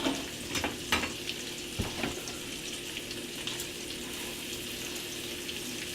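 Chorizo fries in a pan for frijoles a la charra, giving a continuous close sizzle with a few sharp clacks and scrapes of stirring near the start, no voices.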